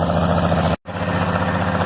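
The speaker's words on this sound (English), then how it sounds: "I'll quit talking over the loud tractor." A loud tractor engine running steadily while spreading fertilizer and disking a field, a constant heavy drone cut briefly by a short dropout, with no voices.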